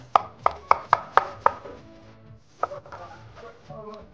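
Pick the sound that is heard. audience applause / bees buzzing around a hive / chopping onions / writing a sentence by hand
chopping onions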